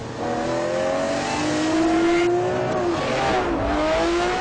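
A Lamborghini LP670-4 SV sports car's engine roars as it accelerates, the pitch climbing steadily, briefly dropping with a gear change, then rising again. Loud, close, no talking.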